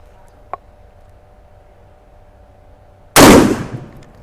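A Mossberg 940 Pro Tactical shotgun fires one loud, sharp shot at a target about 10 metres away on a range. A small click comes before it, and the blast decays over roughly a second.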